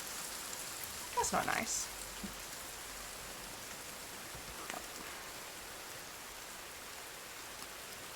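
Rain falling steadily in the video game The Forest, a soft, even hiss of drops on surfaces with a few brief louder patters, while a person speaks briefly over it.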